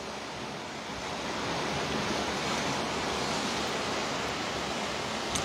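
Steady sea surf washes below a seaside balcony where the Mediterranean meets the Atlantic, a broad continuous rush with slight wind, unbroken and fairly close, with no voices.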